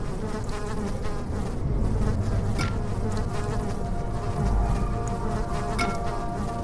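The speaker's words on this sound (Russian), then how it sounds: "Мухи?" Flies buzz steadily throughout a dark interior scene in the horror video game Amnesia: The Dark Descent, a dense, continuous insect drone at moderate loudness with no talking over it.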